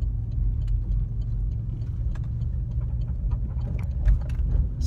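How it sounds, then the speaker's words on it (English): A car engine on the interstate with a clunking fault, heard as a steady low rumble with irregular ticking and knocking on top and a brief louder thump near the end, no talking. "you will hear the engine just clunk"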